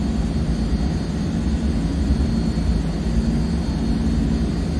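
The big turboprop engines of a C160 Transall in a flight simulator drone steadily, a loud, continuous low roar with a whining hum layered over it, unbroken and with no voices.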